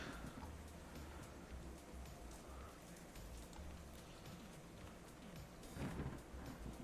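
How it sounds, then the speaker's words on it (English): Thunder from a lightning strike in a post-apocalyptic wasteland video game, a continuous rolling rumble with steady rain-like hiss and a swelling crack near the end, faint and without speech. "Struck by lightning."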